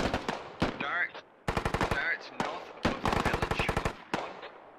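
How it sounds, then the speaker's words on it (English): Bursts of automatic gunfire in the military shooter Squad, with rapid rhythmic volleys of shots in several loud clusters separated by brief gaps, alongside a few single cracks. "now Gorwolf's starting to receive fire"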